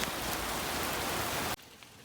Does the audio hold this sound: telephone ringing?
no